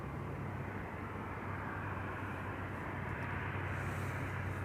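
A Boeing 787 Dreamliner airliner arriving at Amsterdam Schiphol airport makes a loud, steady, broadband jet roar with a low droning hum, holding constant throughout as it passes nearby.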